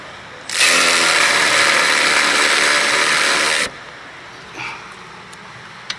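Power tool driving a bolt into the paint-coated threads of a Toyota Camry rear brake caliper bracket: one loud, steady whirring burst of about three seconds, then quiet with a brief faint rattle afterward.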